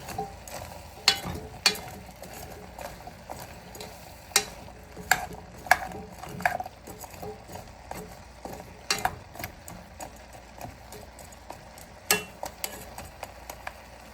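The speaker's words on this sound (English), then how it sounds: "Give that a good stir" Onions and potatoes for vegan Hungarian goulash stirred in a pot, a spoon scraping and knocking in irregular clicks and scrapes over a low sizzle, close and fairly quiet, with no talking.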